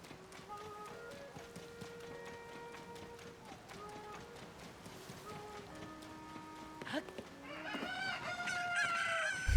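Guard cuckoos in a village plum garden in Zelda: Tears of the Kingdom, clucking over and over at close range over game music. The clucking grows busier and louder toward the end as the birds rush in.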